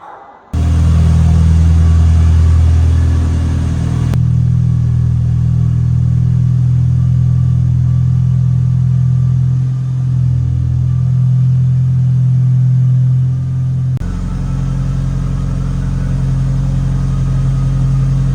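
A Mitsubishi Lancer Evolution VIII engine cold-starts after about two weeks parked: a brief crank bursts into a loud, steady high idle with a deep rumble, then settles to a lower, still throaty idle, close up with no talk.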